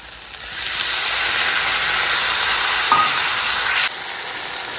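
A pan of vegetables sautéing over the heat, giving a steady, loud, broad hiss of sizzling with a faint clink partway through and no talking.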